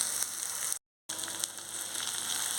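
Onion chutney ingredients (onion with turmeric and coriander) fry in a pan, producing a steady, fine crackling sizzle at a moderate, even level with a brief silent dropout near the start, no talking.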